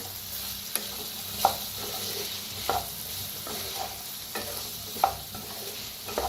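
Sliced bitter gourd being stirred in a pan over a low flame, a soft steady sizzle broken by several scraping strokes of a spoon at irregular intervals, close and fairly quiet.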